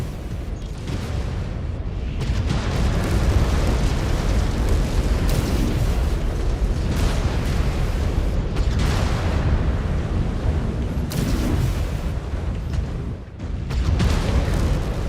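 Heavy explosions from missiles in a combat video game, a sustained loud roaring barrage of booms with brief bursts and short dips, carrying on for about fifteen seconds without talk.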